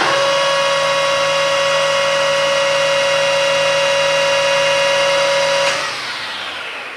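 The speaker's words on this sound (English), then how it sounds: "I'm going to zero the lathe by touching the cutting tool off the lathe of the piece as it's spinning" Metal lathe spinning a workpiece while the cutting tool is touched off, a steady loud motor whine with a strong tonal hum that drops away as the machine winds down near the end.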